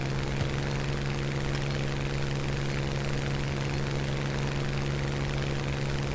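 Propeller engine of a Hawker Hurricane fighter plane in the video game War Thunder, a steady, loud droning hum with a constant tonal whine that holds evenly throughout, with no voices over it.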